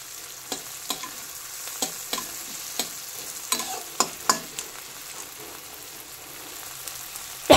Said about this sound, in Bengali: একটু ভাজা ভাজা হোক, টমেটোগুলো একটু কাঁচা কাঁচা আছে।